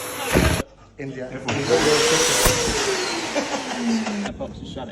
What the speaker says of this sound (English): It's a Hoover!